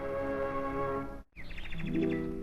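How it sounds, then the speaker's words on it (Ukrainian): A steady, sustained tone cuts off briefly, then a nightingale trills rapidly in a quick repeated pattern, clear and fairly close, in Kyiv. "Нехай тут порушує тишу лише спів солов'я."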